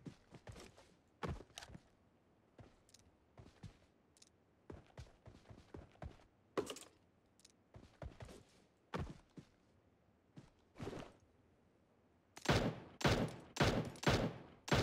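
Gunfire in the PUBG Mobile arcade sniper training mode: scattered sharp shots, some close and some distant, then a loud, rapid cluster of near shots toward the end.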